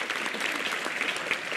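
Steady applause from an audience at an Indonesian religious talk, many hands clapping evenly at moderate volume without speech.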